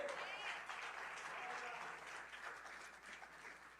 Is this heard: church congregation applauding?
yes